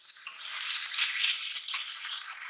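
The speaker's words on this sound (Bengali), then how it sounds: "এবার আমি টমেটোটাকে খুব ভালোভাবে এর সাথে কষিয়ে নেব" Chopped tomato is stir-fried with spice masala in a pan for Bengali egg curry, a steady close sizzling hiss with faint stirring scrapes, no voices.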